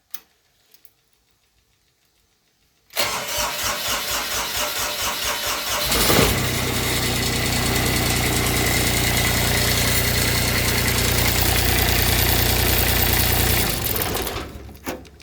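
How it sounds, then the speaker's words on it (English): Kubota diesel engine cranks and catches after a few seconds of quiet, then settles into a loud, steady, close-up idle with a rapid ticking clatter, running on alone until it cuts off near the end. "let me start this up"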